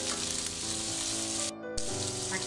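Chopped onion frying for poori masala, a steady close sizzle in a pan that briefly drops out partway before resuming, with no talk over it.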